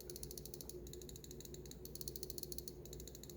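Rapid, evenly spaced clicking from the side buttons of a Glorious Model O 2 Wireless mouse, faint, close and crisp, with no talk.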